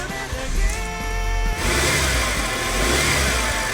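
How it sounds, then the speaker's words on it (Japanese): A Fiat 500 Dualogic with a failing clutch is started: a brief starter crank, then the engine catches and settles into a steady close-up run with a whining tone layered over the engine noise. "今エンジンかけたんですけど、"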